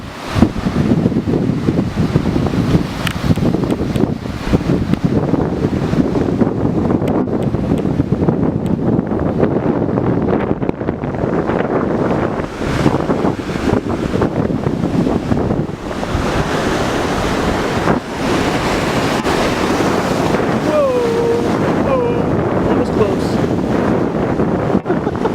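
Ocean waves crash and splash up close by on the shore, a continuous loud roar of surf with gusts of wind buffeting the microphone throughout.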